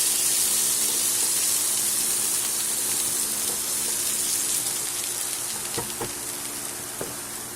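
Garlic sizzles in oil in a pan, a steady, close, bright frying hiss with small crackles and pops throughout and no talking.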